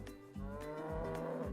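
A black and white cow moos in a long, low, harmonic call that rises and holds, close and fairly loud, with no talking over it.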